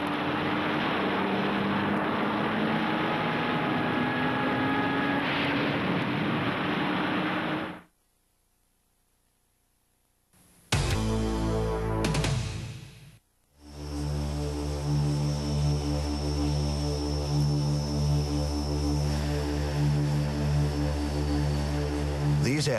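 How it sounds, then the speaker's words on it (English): RAF Tornado F-3 fighter jets produce a broad, roaring engine noise that cuts off abruptly, then after a short burst returns as a steady, droning whine and hum. "These aircraft are Tornado F-3s, the RAF's only dedicated fighter."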